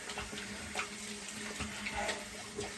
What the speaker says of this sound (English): So I'm going to rinse off the hands